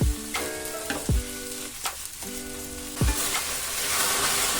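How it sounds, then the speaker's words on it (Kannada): Okra frying in oil in a pan for bhindi palya, a steady bright sizzle that builds over the clip, broken by a few sharp clunks as the pieces are stirred. "ಎಣ್ಣೆ ಹಾಕೊಂಡು ಇದರೊಳಗಡೆ ಇರುವಂಥ ಲೋಳೆ ಅಂಶ ಹೋಗೋವರೆಗೂ ಸ್ವಲ್ಪ ನೀಟಾಗಿ ಇದನ್ನ ಫ್ರೈ ಮಾಡ್ಕೊಂಬೋಣ"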